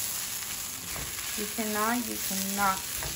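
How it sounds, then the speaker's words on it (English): Rice frying with achiote and cumin for Mexican red rice, stirred in the pan: a steady close sizzle with brief scraping stir strokes, and a voice speaking briefly over it. "The achiote, the cumin, and now I'm going to stir up one more time."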